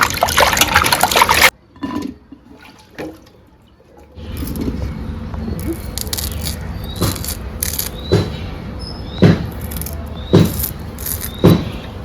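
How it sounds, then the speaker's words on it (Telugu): Ivy gourds being washed by hand in salted water in a kitchen, splashing and sloshing at first, a brief quiet, then continued water movement with intermittent clinks, close by. "దొండకాయల్ని ఇలా 2 సార్లు కడుక్కోవాలండి. శుభ్రంగా ఉప్పేసి 2 సార్లు కడుక్కోవాలి."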